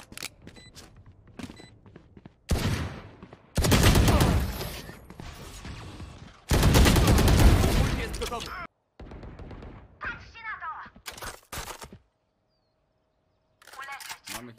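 Bursts of rapid gunfire and explosive blasts from an esports shooter video game come in loud clusters, separated by quieter stretches of clicks and footsteps, with occasional talk.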